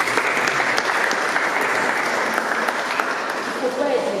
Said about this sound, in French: Acclamez pour la vie.